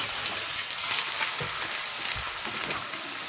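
Burger buns toasting in a hot pan until brown and crispy, a steady close sizzle with a few low knocks and light scrapes underneath.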